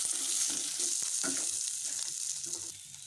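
Dried red chillies, shallots and garlic frying in a pan, with a steady close sizzle and brief stirring scrapes and light clicks now and then, and no voices.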